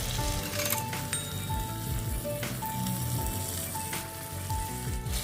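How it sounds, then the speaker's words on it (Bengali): Pabda fish sizzling steadily in hot oil in a pan, a dense continuous crackle and spatter heard up close with faint tonal hum in the background and no voices. "এক পিঠ ভাজা হয়ে গেছে, এখন আমি উল্টিয়ে দেব আরেক পিঠ ভেজে নেওয়ার জন্য"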